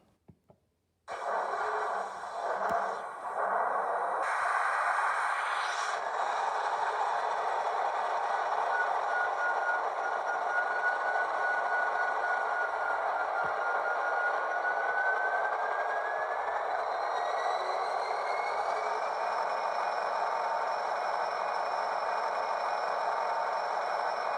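A Kato SD80MAC model diesel locomotive's engine hum starts up and runs steadily on a layout, with a rising whine and a faint tone shift partway through, no voices.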